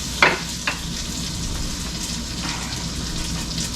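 Cooked noodles stirred with butter in a pot for mac and cheese, giving a couple of brief scraping clinks near the start over a steady low sizzling, watery hiss.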